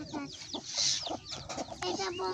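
Desi chickens on a small home farm cluck in scattered, overlapping bursts as they come in at evening, faint and fairly close, with soft background noise.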